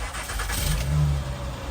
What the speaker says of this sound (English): we're going to go ahead and start the car